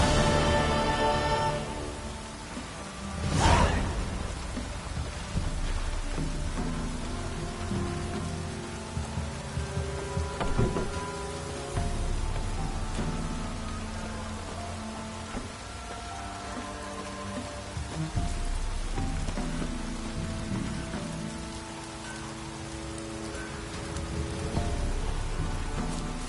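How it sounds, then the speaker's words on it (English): Heavy downpour drumming steadily through a rainy stretch of The Witcher 3 game world, with a loud thunder-like burst near the start and game music and ambience layered underneath for the full length. "Proper downpour this is."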